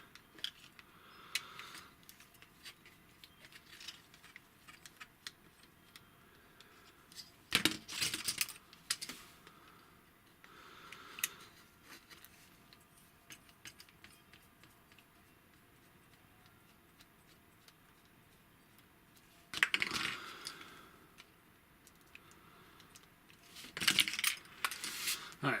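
Small screws being unscrewed from a Transformers TFC Poseidon toy, faint quiet ticking and clicking with a few louder plastic clatters and taps spaced across a near-silent background.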